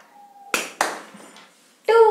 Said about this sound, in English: One clap